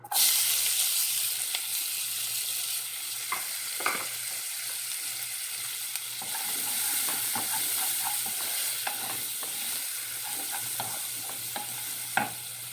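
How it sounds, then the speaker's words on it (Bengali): Onions frying and stirred in a pan used for prawns, a steady broadband sizzle with scattered scraping clicks from the spatula, close and continuous with no talk. "ভাজা হয়ে গেছে, এখন পেঁয়াজ দিয়ে দেব।"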